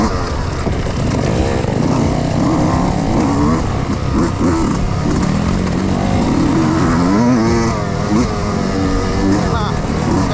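Racing motorcycles, including a Yamaha YZ125 entered in a 300cc class, whine and rev continuously at close range, loud and constant, with someone talking over the engine noise.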